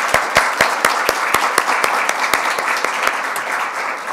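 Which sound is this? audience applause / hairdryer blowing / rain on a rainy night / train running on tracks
audience applause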